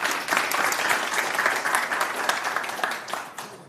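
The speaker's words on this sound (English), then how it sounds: "One more round of applause." A conference audience in Amsterdam applauds with dense, sustained clapping that stays loud and even before easing slightly at the end.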